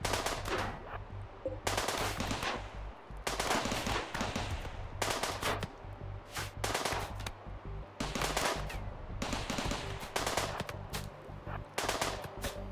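A turret in the colony-building game RimWorld fires in repeated rapid bursts, each one a dense rattle lasting about a second, separated by short gaps at a fairly regular rhythm with a steady low hum underneath.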